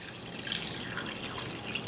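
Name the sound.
pouring a quart of water into a glass pot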